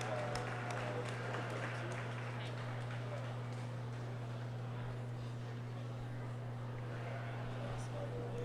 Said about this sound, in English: let's give our exhibitors a round of applause as they exit the ring at this time